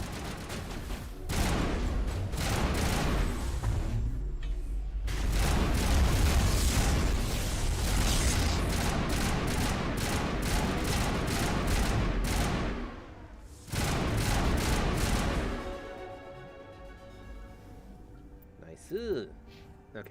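Sustained bursts of gunfire and explosions from a battle in the video game Mass Effect Legendary Edition, loud and dense in long volleys with brief pauses, while a player talks over them.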